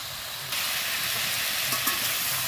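Vegetables sizzle in a hot pan as they are sautéed, a dense close hiss that swells sharply after a quiet start and holds steady with faint stirring knocks.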